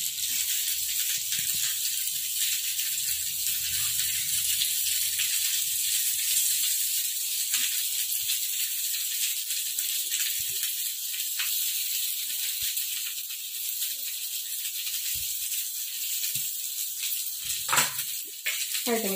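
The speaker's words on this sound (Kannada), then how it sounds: "ನಮ್ಮ ಪ್ಯಾನ್ ಬೆಚ್ಚ ಅರದಿ ಉಡು ಬೊಕ್ಕಾಯ್ಕ ತುಪ್ಪ ಪಾಡ್ದು ಕಟ್ ಮಂತಿನ ಪತ್ರೊಡೆನ್ ಪಾಡ್ದು ಫ್ರೈ ಮಲ್ಪೋದು" Patrode, cut into pieces, frying in ghee in a hot pan, giving a steady close sizzle and hiss that runs throughout, with a few brief clatters near the end.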